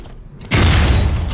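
A sudden loud blast from a weapon's alternative fire in Unreal Tournament erupts after a quiet moment, a heavy, booming burst that carries on as a rumbling roar to the end.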